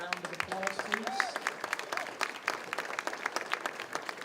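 Audience applause for volunteers at a Canadian Cancer Society luncheon in Cowichan Valley, a steady patter of claps filling the room at moderate distance while voices murmur and talk underneath.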